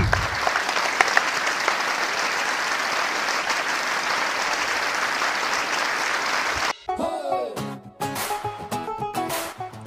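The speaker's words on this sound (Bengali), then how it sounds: "হাততালি" An audience at a Bangladeshi comedy song audition claps in sustained, dense applause for several seconds, which then stops abruptly and gives way to scattered louder claps and brief noise.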